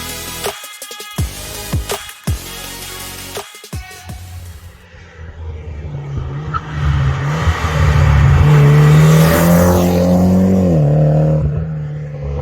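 A limited-edition Mitsubishi Lancer Evolution X FQ-440 engine revs loudly, with sharp blips at first, then a sustained rising and falling rev, heard up close.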